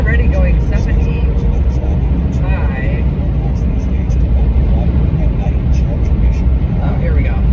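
A car cruising at about 75 mph on a highway during a cold January road trip toward the Boston area gives a loud, constant, close interior road rumble and engine drone that stays steady throughout.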